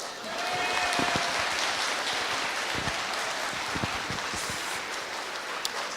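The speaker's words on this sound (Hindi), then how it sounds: "सारे लड़के जोर जोर से लड़कियों के लिए पहले तालियां बजाओ" Audience applauding during a talk at a Brahma Kumaris gathering: a dense, steady wash of clapping that holds from start to finish, moderately loud, with a few sharper claps standing out.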